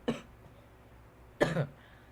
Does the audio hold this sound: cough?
yes